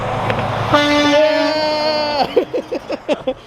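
A loud, sustained train horn blares, then cuts off into a rapid series of rhythmic clattering pulses as the train rolls by.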